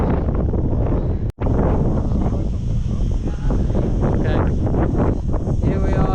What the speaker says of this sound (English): It is windy on a suspension bridge near the top of the rock of Gibraltar.